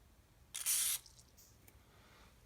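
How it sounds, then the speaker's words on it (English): A short, sharp hiss of an aerosol spray of oil into a windsurf board footstrap hole lasting about half a second, close up, followed by quiet background. "just spray it in"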